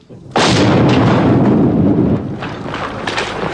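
Croat artillery firing during the Bosnian war, one heavy, loud boom with a long rolling rumble that decays slowly, followed by fainter distant echoes.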